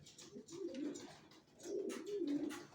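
Racing pigeons in a loft coo softly in two low, rolling phrases, heard close up with no talking.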